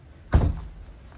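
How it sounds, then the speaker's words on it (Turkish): A door in a boutique hotel building swings shut with a single close, dull thunk, followed by a short fading rumble in a quiet room. "ben şu kapıyı kapatayım"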